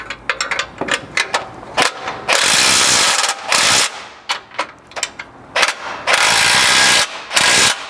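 A hand ratchet drives 18 mm factory bolts holding lower tie-in brackets into a Chevy Colorado's frame during a front bumper install, giving rapid bursts of loud, close clicking with longer sustained runs and short pauses between strokes, no talking.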